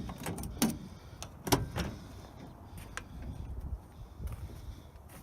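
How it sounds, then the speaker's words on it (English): Driver's door of a 1986 Dodge Ram D100 pickup, repainted green and fitted with later door panels, being opened: a few sharp metallic clicks and clunks of the latch and hinges, close and moderately loud. "Let's open the door."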